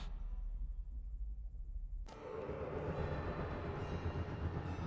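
A train runs along rails with a sustained low rumble, then a sharp burst brings brighter, louder rolling rail noise and metallic rattle of wagons, continuing steadily; no voices.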